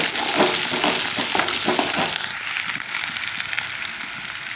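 Garlic and curry leaves fry in hot oil with a loud, steady sizzle and crackle, some stirring clatter early on, then a smoother hiss.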